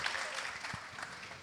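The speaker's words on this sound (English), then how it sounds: "All right, a big applause for him." Audience applause in a camp session hall, a steady crowd of clapping at moderate level throughout, without speech over it.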